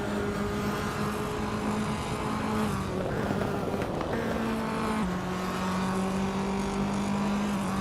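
Race car engines in a racing game, led by a 2010 Opel Corsa S2000, keep up a loud continuous whine that climbs and shifts pitch through gear changes, with other cars droning nearby.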